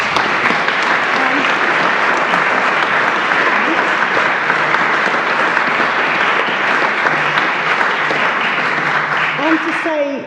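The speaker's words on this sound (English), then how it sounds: "Big round of applause." Loud, sustained applause from an audience at a moot trial event, dense continuous clapping that holds steady before a voice cuts in right at the end.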